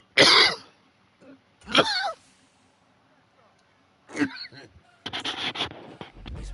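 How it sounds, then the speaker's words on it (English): A man gives several loud, close coughs and throat-clearing bursts, spaced unevenly with short pauses between them, during a live-streamed Madden football video game session. "Got to cough to get off, baby."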